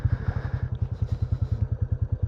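Royal Enfield-style Classic 350 motorcycle single-cylinder engine running close by, a deep rapid even thump of roughly ten beats per second with a steady low rumble and some mechanical clatter.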